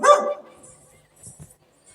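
A dog barks loudly in a short burst at the start, then a few fainter yips and barks follow after a pause, heard outdoors without talk.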